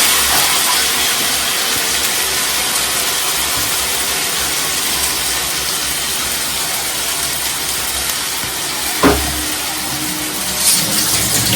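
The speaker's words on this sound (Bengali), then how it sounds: "আস্তে আস্তে গ্যাসটা ফ্লেমটা স্লো করে ভেজে নেবো, এগুলোকে কষিয়ে নেবো।" A paste of ground mustard, onion and green chili fries in oil in a pan over a low gas flame, giving a steady broad hiss throughout with a brief louder scrape near the end.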